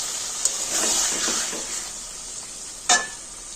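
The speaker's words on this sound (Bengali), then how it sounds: "এবার আমি একদম হালকা করে একদম অল্প একটু জল দেবো।" Prawn curry masala with potato sizzles in a pan as a small splash of water hits it, a steady bright hiss with a sharp burst near the end, heard close and alone.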